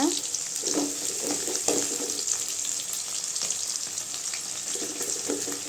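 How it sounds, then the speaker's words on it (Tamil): Small shallots sautéing in a pan for a katla fish curry, a loud continuous close sizzle with occasional stirring scrapes and no talking. "வெங்காயம்லாம் நல்லா வதங்கட்டுங்க"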